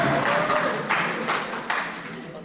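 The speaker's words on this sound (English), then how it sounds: "I think I deserve a clap now." Audience applause at a networking event, a steady wash of many hands clapping at moderate distance, with a few sharper bursts standing out and a faint voice underneath.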